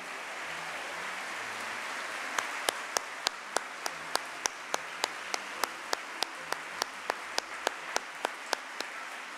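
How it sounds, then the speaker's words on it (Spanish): Warm applause from a university community at a 59th anniversary ceremony of UC Temuco, a steady wash of clapping joined by a series of crisp, rhythmic, evenly timed claps standing out above it. "este es el cariñoso aplauso de la comunidad UCT Temuco"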